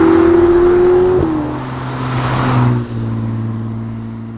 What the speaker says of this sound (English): with the turbos on there, it just really muted the sound on that Pista.